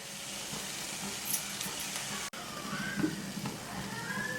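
Masala with ginger-garlic paste and turmeric sautéing in a pan gives off a continuous low sizzle, with a brief soft clink near the middle. No one speaks.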